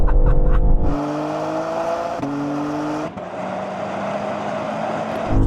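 Hybrid BMW estate in sportiest settings, manual gearbox mode, accelerating hard from third gear in a roll-on drag race: loud, close engine drone climbing in pitch with distinct gear-change steps, steady and sustained throughout.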